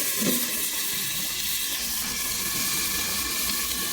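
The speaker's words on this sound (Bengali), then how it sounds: "আমার পটল ভাজাটা মানে ভাজাটা ধীরে ধীরে হতে থাকুক" Pointed gourd (potol) frying slowly in a covered pan on low gas, giving a steady, even hiss and sizzle that holds throughout without pause.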